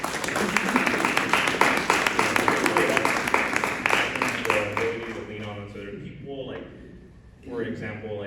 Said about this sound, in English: big round of applause for all these people around us